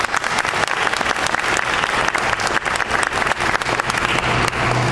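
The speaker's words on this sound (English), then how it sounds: "they deserve a round of applause" An audience at a memorial bust ceremony applauds with dense, sustained clapping lasting the whole stretch at an even, fairly loud level.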